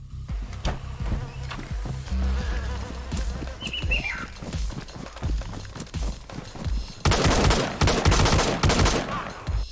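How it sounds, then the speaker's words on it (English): Gunfire in the DayZ video game at an airfield, a rapid run of sharp loud shots growing denser and louder toward the end, with buzzing insect-like ambience underneath. "my gunshots would alert every zombie in the airfield"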